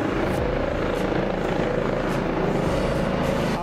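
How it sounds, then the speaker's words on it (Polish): A helicopter hovers and comes in to land near Jaworzno Szczakowa railway station in Poland, its loud, constant rotor thrum and engine roar filling the scene close by without letup. "No i helikopter zawisł i ląduje."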